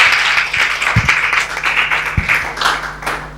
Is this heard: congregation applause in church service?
yes